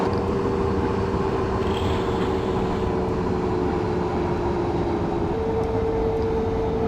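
A train braking as it pulls into a station in Train Simulator 2014 gives a steady loud rumble with a sustained brake tone that shifts pitch near the end, with no talking.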